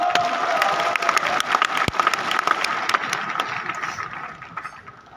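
Audience at a social media growth conclave in Talkatora Stadium applauding, a dense burst of clapping with sharp individual claps that gradually thins and fades.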